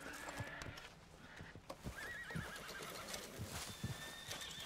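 Horses neigh and whinny in Red Dead Redemption 2 at a homestead, with clip-clop hoofbeats and shuffling throughout, several whinnies rising clearly over the busy game ambience.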